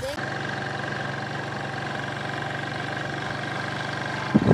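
A motorbike engine idles steadily at close range, a constant low mechanical hum with faint vibration, ending with a brief rustle or bump.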